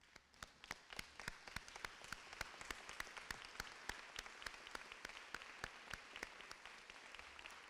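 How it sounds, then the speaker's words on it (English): A standing audience at a birthday celebration for Dr. W.E.B. Du Bois applauds three members of the class of 1974, scattered distinct claps sounding faint and distant at a steady pace. "Please join me by standing and giving these three members of the class 1974 a hearty round of applause."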